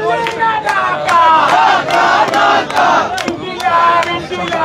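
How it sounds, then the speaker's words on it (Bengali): Protesters chant slogans in front of the parliament building, a dense crowd of raised voices with rhythmic shouted bursts that stay loud and close throughout. "আমরা দেখছি স্লোগান দিচ্ছে"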